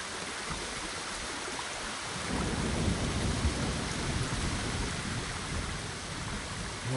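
A waterfall in the Ghost of Tsushima video game pours with a dense, steady roar of rushing water that swells slightly louder partway through and stays continuous, with no voices.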